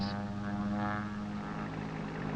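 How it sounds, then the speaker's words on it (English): A fixed-wing propeller airplane spraying ant treatment from the air drones steadily and loudly overhead, a sustained engine hum throughout. "treatment from the air stops when the airplane approaches the trees"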